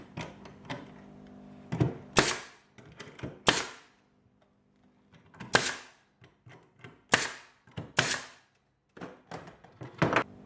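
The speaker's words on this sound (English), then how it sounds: "shoot a couple of nails in there" A pneumatic nail gun fires nails into old timber fence palings for a rustic crate: about six sharp, loud cracking shots at uneven intervals, with soft knocks and handling clunks between them and no talking.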